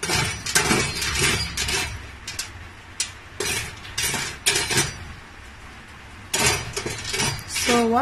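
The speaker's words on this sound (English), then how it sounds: "So what we're gonna do is to bring the soya bean out, okay? Stir it," Roasting soya beans stirred in a pan, heard as repeated scraping and clinking strokes of a utensil against metal, close and fairly loud in irregular bursts with brief pauses between them.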